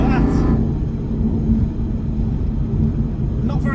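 A 2007 Aston Martin V8 Vantage 4.3 growls at low revs, a deep, loud, steady engine rumble with a brief higher rev flare at the start and again at the end.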